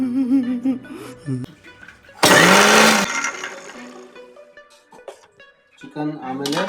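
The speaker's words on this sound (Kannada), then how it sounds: "ಆಮೇಲೆ ಮಿಕ್ಸಿ ಫಸ್ಟ್ ಆನ್ ಮಾಡಬೇಕು." A kitchen mixer grinder whirs in one loud burst of under a second while a chicken keema dish is prepared, with talking before and after it.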